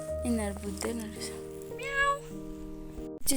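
A cat meows several times in drawn-out, rising and falling cries, close by and loud, with voices talking around it on a hiking trip through Nepal's hills.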